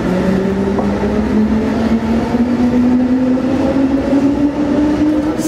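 A Munich S-Bahn Class 420 electric train hums in a station, its motor tone rising steadily in pitch over loud rumbling noise.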